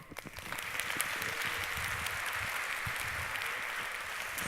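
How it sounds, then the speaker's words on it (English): Sustained applause from a conference audience at a general session, building quickly and holding steady and dense throughout, with no talk over it. "Give a big round of applause to Impact"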